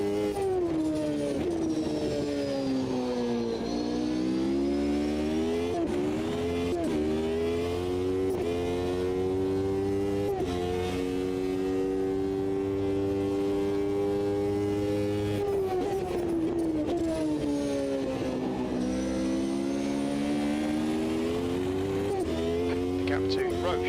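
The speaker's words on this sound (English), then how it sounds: "Love the sound of the other cars. That's a V12 in that one." V12 race car engines in the Automobilista 2 racing game drone and rise and fall steadily through upshifts, a continuous loud engine note with a voice talking over it at times.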